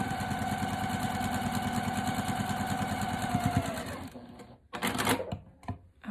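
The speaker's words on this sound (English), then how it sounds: "take it over to the sewing machine and sew with a 1/4 inch" Sewing machine stitching quilt fabric squares with a 1/4 inch seam, a fast steady mechanical rattle for about four seconds that stops, followed by brief handling noises close by.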